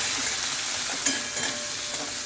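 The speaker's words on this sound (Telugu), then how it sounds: "దీంట్లోనే మనం కారం, సాల్ట్, పసుపు ఫుల్లోని పెట్టి ఇది వేగించుకోవాలి." Potatoes fry in a pan with chili powder, salt and turmeric, producing a continuous dense sizzle with faint scraping stirs mixed in, close and even throughout.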